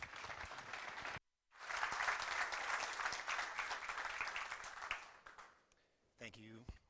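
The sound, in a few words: audience round of applause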